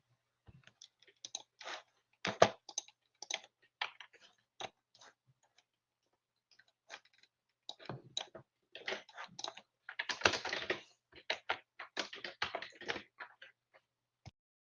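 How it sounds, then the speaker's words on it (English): Bursts of keyboard typing during an online standards meeting, quiet and close, in irregular runs of clicks with a pause in the middle, alone without talk. "while Hannes is typing up that one"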